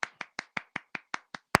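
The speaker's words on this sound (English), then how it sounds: "we're clapping because we said every time we named someone that won that was black, we were clapping" Hands clap nine times in a quick, even rhythm, close and sharp, with the final clap noticeably louder.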